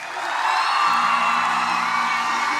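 Audience at a university autumn graduation ceremony for the Faculty of Science and Agriculture erupts in loud, sustained applause with whoops and cheering, a dense crowd roar holding steady for a few seconds.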